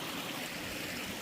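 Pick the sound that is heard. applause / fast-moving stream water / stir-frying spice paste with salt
fast-moving stream water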